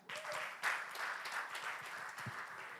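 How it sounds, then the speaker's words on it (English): A crowd at a social media convention breaks into applause after a brief quiet start, dense steady clapping from many people continuing throughout. "Clap for cast team."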